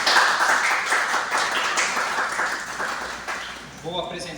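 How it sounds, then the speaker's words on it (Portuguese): Audience applause at a round-table panel for two guests, a steady burst of many hands clapping that gradually fades, with a voice starting to speak near the end. "Eu peço uma salva de palmas para eles."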